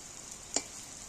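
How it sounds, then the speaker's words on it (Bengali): Spiced eggplant slices fry in oil over a wood-fired stove, giving a faint, steady sizzle broken once by a single brief clink near the middle. "এইভাবে আমি বেগুনগুলোকে আস্তে আস্তে ভেজে নেব"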